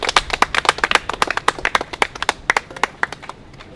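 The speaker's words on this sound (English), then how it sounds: "Let's keep this clapping going" A small crowd clapping at a campus gathering where delegations present petitions to a college president, with sharp, close individual claps in a quick uneven rhythm that thins out toward the end.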